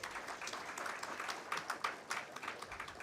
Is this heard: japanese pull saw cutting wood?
no